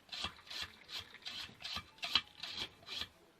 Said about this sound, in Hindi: इसके साथ रगड़ेंगे तो पूरी जितनी गाजरें हैं इसको मैं ऐसे कद्दूकस करेगा